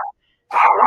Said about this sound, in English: Sorry, my dog is going crazy.